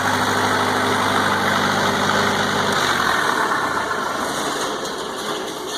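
Loud, steady idle of a Lincoln Trailblazer engine-driven welder heard up close, a constant mechanical drone that shifts slightly in tone partway through and continues unbroken.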